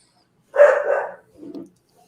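A dog gives two barks close by, a louder, longer one followed by a shorter, softer one, in an otherwise quiet room.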